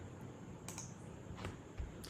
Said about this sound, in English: I am typing